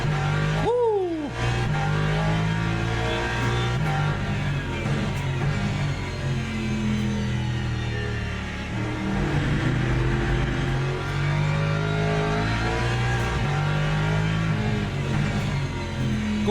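A GT3 race car engine in a racing video game drones loud and steady throughout, with shifting revs, a brief rising whine near the start and continuous road and tire noise.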